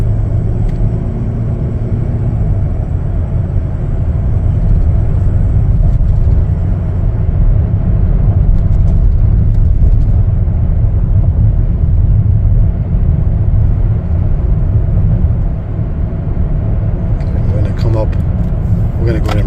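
A 2022 Chevy Traverse RS on a test drive makes a continuous low rumble of road and engine noise from inside the cabin, with someone talking over it for the whole stretch.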